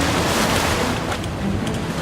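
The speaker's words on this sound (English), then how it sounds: "Try to be stable because the waves are going back and forth." Rough open-sea waves in the channel between Oahu and Molokaʻi, heard from aboard a sailing canoe: a loud, continuous wash of surf and water churning close by, mixed with wind buffeting the microphone.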